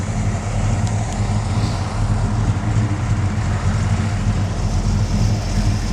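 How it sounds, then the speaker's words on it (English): A 1966 Dodge Charger fastback with a 440 Wedge V8 runs smoothly, a steady, even low rumble that stays constant throughout. "But the motor is smooth."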